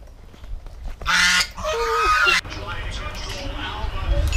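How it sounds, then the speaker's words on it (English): Big white geese honking loudly and harshly, close by, in a couple of long raucous bursts amid outdoor background noise, with a person talking at times. "do not chase the big white geese"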